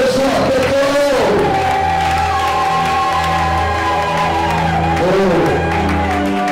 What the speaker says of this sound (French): Avec le cri de joie très fort